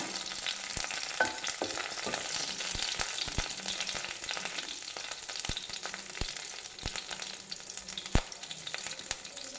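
Curry leaves and dried red chillies fry in coconut oil in a pan, giving a steady close sizzle scattered with sharp pops and crackles throughout.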